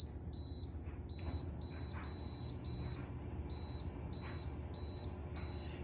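A Power XL air fryer beeps as its buttons are pressed, sending a series of about ten short, clear electronic tones in an uneven rhythm over a low background hum.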